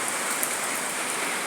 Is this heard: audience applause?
no